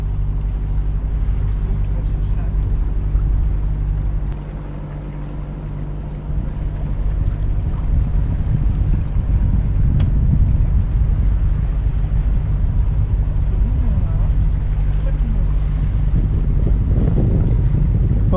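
A pilot boat passes on the Strait of Messina near Reggio Calabria, heard as a steady low engine drone over wind buffeting the microphone, with the rumble swelling toward the end.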